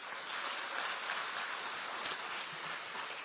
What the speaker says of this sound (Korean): 이분들께도 박수 한번 좀 보내주십시오